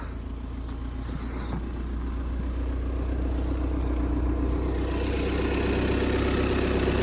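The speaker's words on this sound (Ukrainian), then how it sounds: "Ось так має працювати двохлітровий двигун у Volkswagen або Шкода, або Audi" A Volkswagen Passat B7 2.0 TDI diesel engine idles steadily up close, a smooth, even low rumble with a faint mechanical whir and no knocks or squeals.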